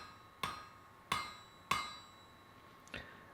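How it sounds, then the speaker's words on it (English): Wrought iron for a medieval trowel tang hammered on an anvil: three sharp ringing blows about half a second apart, then a fourth lighter strike, close and clear against quiet. "we're just forging the tang like this for the time being"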